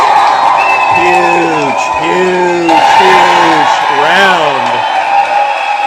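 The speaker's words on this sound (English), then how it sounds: "round of applause" An audience cheers and applauds panelists at an event, loud and close, with whoops and shouted voices rising over a dense crowd roar throughout.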